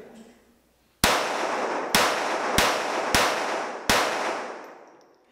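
Five sharp shots from a Tanfoglio .22 LR pistol crack out at irregular intervals, loud and close, each followed by a short reverberant tail.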